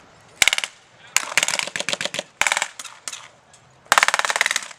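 Bursts of machine gun fire in a wartime skirmish against German troops, several rapid strings of shots with short pauses between them, loud and close, followed by a longer final burst.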